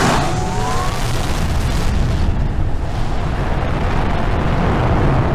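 Rocket launch in the video game Planet Crafter: a loud, sustained roaring rumble with a brief rising whistle at the start, holding steady throughout without speech.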